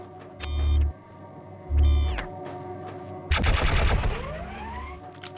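A pistol firing in rapid-fire mode at a shooting-range target in the Gunman Chronicles video game: two short bursts with electronic beeps, then a longer loud volley of rapid shots with a rising whine.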